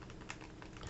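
Keys tapped on a computer keyboard to enter a short number, a quick run of soft, close clicks at low level with no talk.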